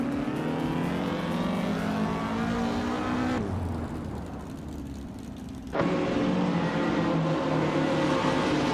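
Race cars roar past, including a 1952 Ferrari 375 Indy, their engines loud and steady with a sudden drop and then a surge as another car sweeps close by.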